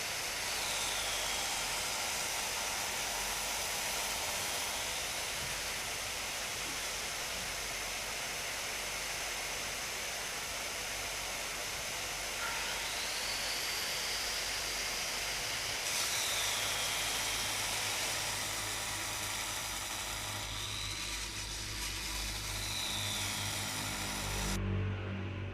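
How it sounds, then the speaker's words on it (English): An angle grinder cuts along marked lines in a countertop, working out the sink cutout during a villa renovation; a steady, loud, broadband whine runs continuously close by, with no talk, and cuts off at the very end. "now we carefully cut along the marked lines using the grinder"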